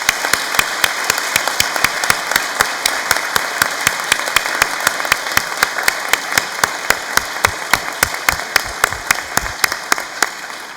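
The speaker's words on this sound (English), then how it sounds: "Please join me in applauding all of these people who have helped you in your achievement." Steady applause from a large graduation ceremony audience honouring the graduates' supporters, a dense wash of many hands with crisp individual claps standing out throughout, sustained at an even level.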